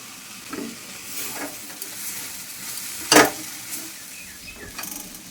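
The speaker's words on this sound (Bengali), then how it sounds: "এবার এর মধ্যে আলুটাও দিয়ে দিচ্ছি দিয়ে দিচ্ছি খানিকটা লবণ গোলমরিচের গুঁড়ো হলুদ গুঁড়ো" Potatoes with salt, pepper and turmeric sizzling in a pan, with scraping stirs and one sharp clatter of the utensil near the middle, close and fairly quiet.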